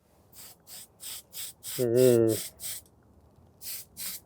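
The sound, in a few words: spray painting model parts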